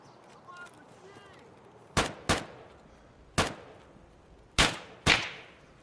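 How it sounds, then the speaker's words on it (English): Gunshots in Escape from Tarkov, five sharp loud cracks in two uneven clusters with short ringing tails, heard alone over a quiet background. "Oh, you're shooting me, are you?"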